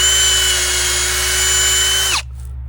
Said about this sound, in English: just pre-drilling the other two holes.